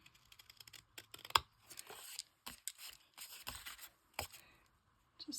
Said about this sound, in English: let me take my scissors here and I will straighten this up just a little bit